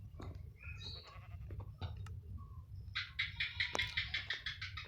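Sheep bleating in a Minecraft Skyblock game, a wavering bleat near the end after scattered soft clicks and chirps over a low steady hum, moderately close with no talking.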